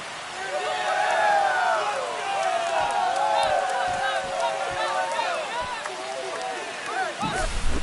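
A home crowd in MLB The Show 25 roars after a Yankees walk-off homer against the Red Sox, a dense, sustained cheer filling the ballpark with overlapping voices throughout.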